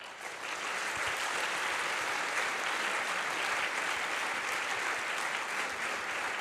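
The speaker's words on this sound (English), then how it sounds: "give yourselves a round of applause for all of your hard work" An audience at an annual celebration event gives a sustained round of applause, steady and full throughout, with a crowd of hands clapping continuously at an even level.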